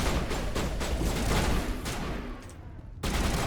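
Rapid gunfire from the Mass Effect Legendary Edition video game, dense overlapping bursts and booming shots that run for several seconds, break off in a brief near-silence, then resume.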